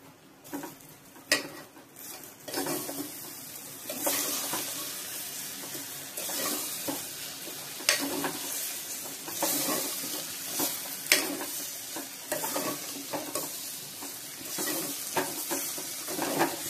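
Ivy gourd tossed with gram flour fries in a pan, a steady close sizzle broken by scraping stirs and occasional clinks of a spoon against the pan, with no talking.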